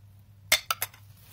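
Yogurt being stirred into a chicken shami kebab mixture in a bowl gives three quick clinks of a utensil against the dish, close and fairly loud, after half a second of quiet.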